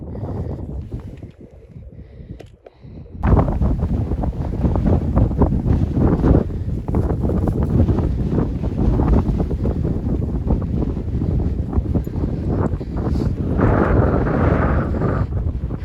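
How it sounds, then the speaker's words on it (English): Strong wind buffeting a microphone on an exposed hilltop ridge in the Peak District, a loud continuous roar that starts abruptly after a quieter opening and keeps gusting. "The wind's definitely picking up."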